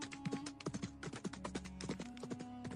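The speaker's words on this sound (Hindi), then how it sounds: "उस सुनसान इलाके में दूर से आती घोड़े की टापें एक गहरे रहस्य का संकेत दे रही थीं।" Horse hooves clop in quick irregular taps, quiet and somewhat distant, with a faint tonal hum underneath.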